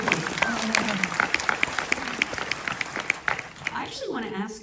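Audience applause in an auditorium at a television drama panel, with scattered claps under a speaking voice that continues over them and then takes over.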